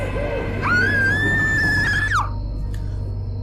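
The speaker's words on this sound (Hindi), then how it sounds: "वो बहुत जोर से चिल्लाई।" A woman lets out a loud, sustained scream in a horror story, a single high shrill cry held for over a second before cutting off, heard over a low steady hum.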